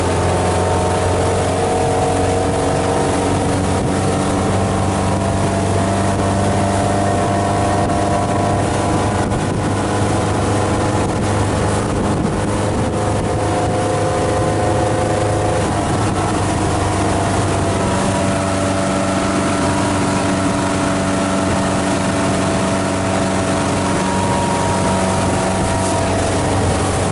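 A 1963 18-foot Thompson runabout's engine drones loudly and continuously as the boat planes at speed across choppy lake water, the pitch holding with slight shifts and no voices.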